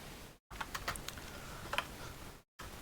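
Light clicks of typing on a computer keyboard come in a few quick, close taps with short pauses, broken by two brief moments of near silence.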